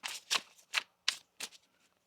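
Tarot cards being shuffled at a reading, four short papery riffling bursts about a third of a second apart, close and fairly quiet, with no talking.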